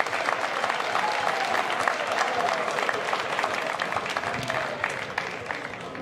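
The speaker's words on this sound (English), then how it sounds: "big round of applause to all those guys" A crowd applauds continuously, a dense steady clapping that holds for several seconds before tapering slightly.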